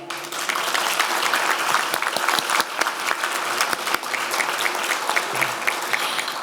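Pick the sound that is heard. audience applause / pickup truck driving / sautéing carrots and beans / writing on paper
audience applause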